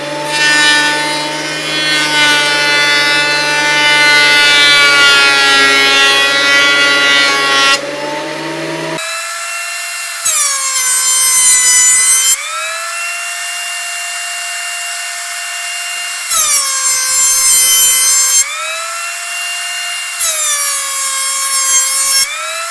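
A jointer-style power planer cuts a wooden board outdoors, taking several passes: a loud steady machine whine that strains and roughens with each cut, then drops to idling between passes.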